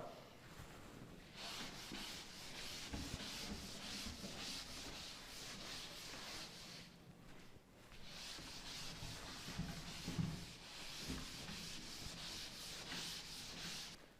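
Writing is rubbed off a board with quick back-and-forth scrubbing strokes, soft and close, in two bursts separated by a short pause, with no talking.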